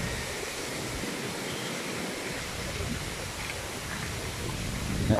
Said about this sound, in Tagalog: Po, umuulan na, grabe.